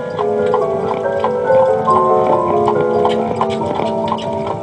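Horse hooves clip-clop at a steady walking pace, with a tonal hum or music running underneath.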